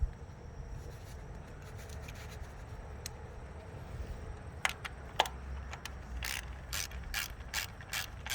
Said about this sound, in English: 10 millimeter socket on the coil pack bolts.